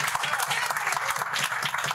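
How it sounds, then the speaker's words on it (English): A crowd at a Brampton mayoral campaign launch applauds in a dense, continuous wash of clapping that stays steady and fairly loud throughout. "Yes, applaud."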